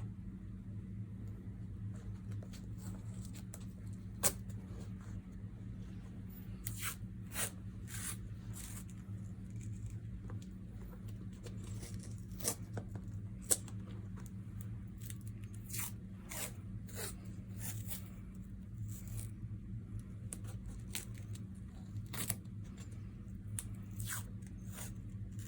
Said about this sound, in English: and then proceed to tape the wound